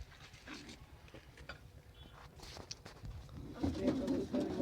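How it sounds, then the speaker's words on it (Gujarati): Soft pigeon coos sound close by in a quiet setting, low and intermittent, with some rustling and movement noises around them. "આમ જો આ કબૂતર લેવા ગયો તો મયુરભાઈ ભેગો"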